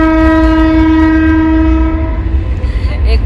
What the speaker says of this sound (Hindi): एक बार फिर से ट्रेन आ गई।